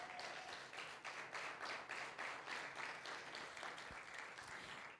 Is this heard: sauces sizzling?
no